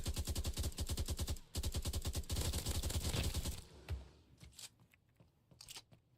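A FAMAS-like rifle in a shooter game fires two long rapid full-auto bursts of loud, evenly spaced punchy shots. A brief pause separates them, and a few scattered clicks and quieter handling sounds follow.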